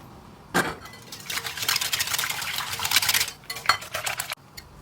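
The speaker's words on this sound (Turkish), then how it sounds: "Dört yemek kaşığı yoğurt ekleyelim ve karıştırmaya devam edelim." Yogurt is stirred into batter in a bowl, a spoon scraping and clinking against the bowl in quick uneven bursts, close and fairly soft, with brief pauses.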